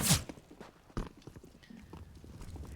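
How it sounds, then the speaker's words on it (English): Rapid footsteps in the Counter-Strike game on the Mirage map during a FACEIT Major match, a quick clip-clop run of steps opening loud and continuing as a busy patter with a sharp knock near the middle. "they're hearing all the footsteps closer"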